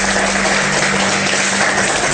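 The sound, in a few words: applause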